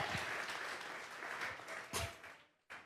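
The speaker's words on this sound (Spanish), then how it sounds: "Vamos a regalarle ofrenda de palmas al Dios de la gloria." Church congregation applauding during a Sunday service, a dense wash of clapping that swells and dips over a few seconds with brief louder bursts, cutting off sharply near the end before a final short burst.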